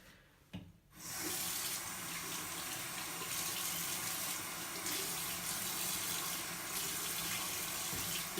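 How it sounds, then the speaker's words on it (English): A tap runs steadily into a sink as hands are washed, a close, continuous splashing hiss that starts abruptly after a short quiet rustle and carries on alone at a moderate level. "You just wash your hands, make sure we don't spread the germs out, right?"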